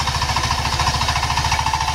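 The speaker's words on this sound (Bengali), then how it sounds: "এটি আমার আঙ্কেলের পাওয়ার টিলার" The 25 hp engine of a Sifang power tiller runs up close with a loud, rapid, even chugging pulse and constant mechanical clatter, and no one speaks.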